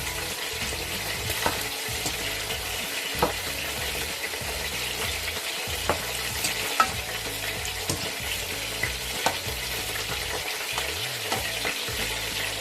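A handful of beans and carrots are stirred through vegetables frying in a pan, giving a steady loud sizzle broken by regular scraping clicks of the spoon against the pan.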